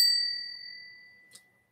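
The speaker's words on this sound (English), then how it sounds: "hit that notification bell" A single bright notification bell ding rings out alone and decays slowly over more than a second, followed by a brief faint click near the end.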